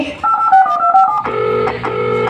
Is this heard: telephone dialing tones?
yes